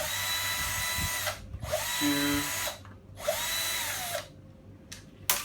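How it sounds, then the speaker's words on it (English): A power drill spins out screws from a plastic board on an AC-825 IP access control unit, running in three loud sustained whirring bursts, each ending with a pitch drop and separated by short quiet gaps. "they just remove 4 screws"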